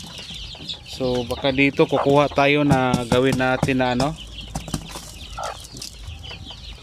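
Shamo Asil chickens in a farm range area cluck nearby while someone talks over them in Filipino.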